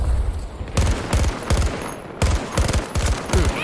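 Gunfire from an AC42 rifle in the shooter game Battlefield 2042, fired in several rapid bursts of sharp, loud close shots with brief pauses between them.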